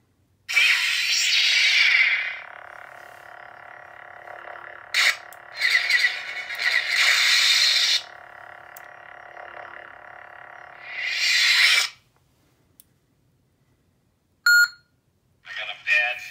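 Electronic boot sound effects from a commissioned Jedi crossguard or Sith lightsaber play in several separate bright, buzzy bursts, with silent gaps and short beeps between them.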